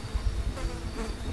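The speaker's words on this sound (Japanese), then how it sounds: "汚らしいハエたちの新しい羽の音が響き渡り" Flies buzz their wings over a forgotten meadow, a close, continuous droning hum that wavers slightly in pitch and loudness, with no voices.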